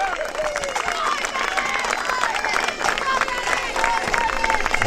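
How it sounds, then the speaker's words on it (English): Crowd applause and cheering for a Gaelic football team passing in a parade at a charity match, a busy outdoor mix of clapping, whistles and voices. "Give the team a big round of applause as they come by there."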